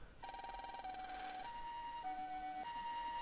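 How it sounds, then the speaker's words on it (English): A synthetic, low-fidelity siren tone from Mega Man Battle Network 3 on Game Boy Advance, alternating between two pitches, buzzy and chiptune-like, steady and fairly quiet. "that's totally very low-res sounding sirens"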